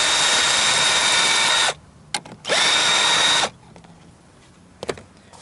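A power tool drives out a long screw from a Ford Explorer interior in two sustained high whirring bursts, heard close, followed by faint clicks and handling noise.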